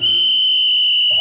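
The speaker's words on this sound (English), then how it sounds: "when I blow this whistle" A park ranger blows a whistle to start a timed water-splashing team game at a dinosaur ranch. It is one steady, shrill blast, loud and close, held for just over a second before a brief rustle.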